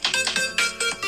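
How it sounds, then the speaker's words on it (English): A phone, set off by the find-phone feature of a G-Shock GW-B5600 watch, plays a loud electronic techno alarm in rapid repeating pulses, close and alone. "obnoxious techno noise come out of our phone"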